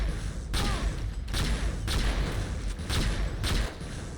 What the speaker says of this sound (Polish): wybuch strzały od uderzenia około sekundy